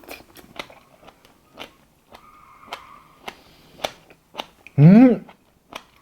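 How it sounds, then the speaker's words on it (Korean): A short, loud crunch of crisp jellyfish in a cold raw-fish soup being bitten, set among soft mouth noises, clicks and light chewing sounds close to the microphone. "바삭바삭바삭 하는 이 소리, 식감."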